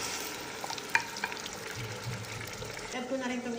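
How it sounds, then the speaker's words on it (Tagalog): Blended tomato is stirred into chicken and tomato paste in a hot pan, giving a soft simmering sizzle with a few spoon clinks and scrapes, close by, and a faint voice in the background. "At ngayon, i-add ko na itong binilend kong tomato."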